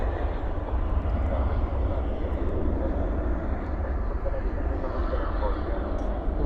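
An Embraer E-Jet airliner lands at DFW airport at night with spoilers up, giving a steady loud low engine rumble and roar that holds at the same level throughout, heard from the spotting area near the runway.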